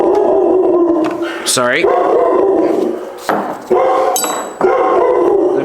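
A puppy barking and howling indoors in a garage workshop, repeated loud yelps and a rising howl in short bursts, with someone speaking briefly amid clinking sounds.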